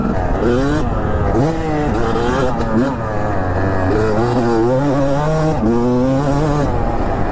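An old 250cc two-stroke dirt bike revved hard on throttle, a loud, buzzy, crackling engine note rising and falling repeatedly as it works through a corner, close to the microphone.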